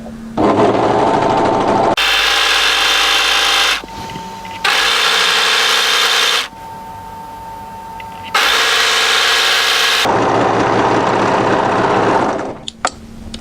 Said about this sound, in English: we're just going to let our blade of our overlocker trim any excess threads as we go